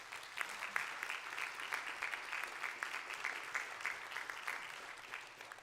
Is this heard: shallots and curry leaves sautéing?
no